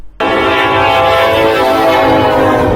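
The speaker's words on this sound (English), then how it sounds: "Train definitely doesn't stop in Newburgh anymore, does it?" A train horn in Newburgh blasts loud and close as the train passes, a steady sustained tone holding for over two seconds after a sudden start, with rail rumble underneath.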